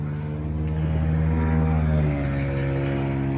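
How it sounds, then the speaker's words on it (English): A loud car roars past outdoors, its deep engine drone swelling close by and then dropping in pitch as it moves away, with no talk over it. "That was a loud car."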